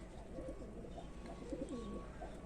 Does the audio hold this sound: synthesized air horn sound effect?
no